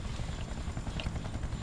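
Helicopter in a video game, a steady whirring rotor drone that continues evenly without pause for the short stretch, with no talking over it.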